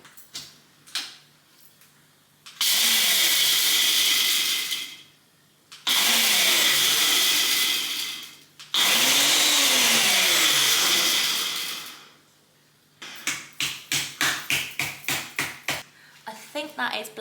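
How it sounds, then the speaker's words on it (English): A kitchen blender runs in three loud, steady bursts of a few seconds each, separated by short pauses, with brief clicks and rapid tapping before and after. "Then I'm going to show you to my blender."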